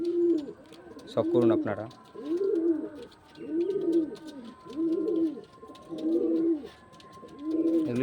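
Pigeons in a home loft coo in a steady repeating rhythm, about seven low rounded phrases, close and clear. Someone talks briefly over the first coos.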